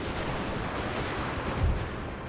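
Artillery guns firing on a cavalry unit in Napoleon: Total War, a dense continuous din of distant cannon booms and musketry with one heavier thump near the end.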